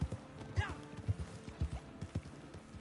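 Wild horses' hooves clatter in a quick, uneven rhythm in the video game Red Dead Online, with a horse's whinny near the start; the sequence sounds close and moderately loud.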